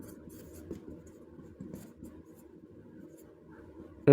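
Marker or chalk writing on a board gives soft, continuous scratching strokes at close range, with a short loud knock at the very end.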